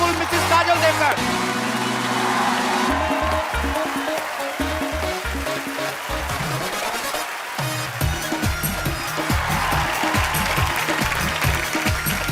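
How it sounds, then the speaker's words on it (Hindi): Sustained applause from an audience fills the clip, dense and steady, with music playing underneath throughout. "तालियां और जोरदार होनी चाहिए।"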